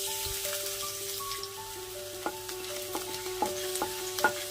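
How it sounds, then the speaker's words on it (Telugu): Finely chopped ginger and garlic frying in a tablespoon of oil, a close crackling sizzle with spoon stirring and scattered bright pops and clinks growing busier toward the end, no talking. "ఒక టేబుల్ స్పూన్ ఆయిల్ ఇందులో అల్లం వెల్లుల్లి అండి సన్నగా తరుక్కోవాలి"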